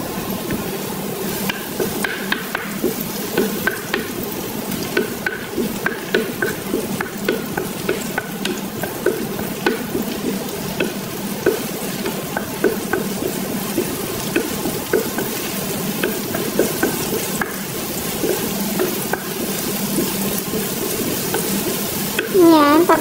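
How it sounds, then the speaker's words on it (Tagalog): Garlic and onion fry in a pan for homemade pizza, sizzling steadily while a utensil stirs and scrapes in frequent light knocks, close by, with occasional talk. "pagluto na yung garlic natin tsaka onion"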